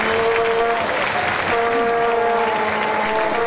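A football stadium crowd roars and cheers after a German Bundesliga side scores a 1:0 headed goal from a cross. The cheering is loud and sustained throughout, with a chant-like tonal swell riding over the broadband crowd noise.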